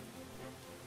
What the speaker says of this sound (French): vous voyez la pluie là, ici